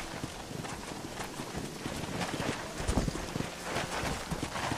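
Horse hooves clip-clopping in the video game Red Dead Redemption, a fairly faint, steady patter of hoofbeats mixed into wind and other game sound.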